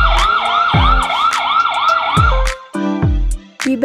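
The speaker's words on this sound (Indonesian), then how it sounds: "Dan tentu saja ada sirine atau lampu alarm pada bagian belakang motor" Toy police motorcycle siren, a battery-powered ride-on Yukita 118 motor, wails in a steady repeating up-down pattern, loud and close, then breaks into shorter electronic beeps and tones near the end.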